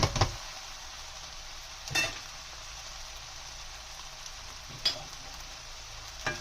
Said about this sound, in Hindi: उसके बाद हम बॉइल्ड चाउमीन डालेंगे।